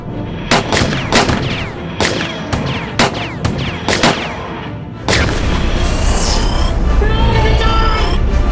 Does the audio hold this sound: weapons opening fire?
yes